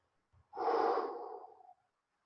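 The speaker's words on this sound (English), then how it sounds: "make sure you breathe" A single deep breath taken during a Systema stretching exercise, a long, close, soft airy inhale-exhale lasting about a second and a half, alone in a quiet room.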